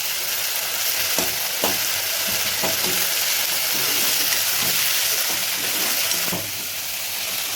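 Onion and potato with ginger paste fry in a hot pan, a steady loud sizzle running throughout while a utensil scrapes and stirs in irregular clacks, with no talking.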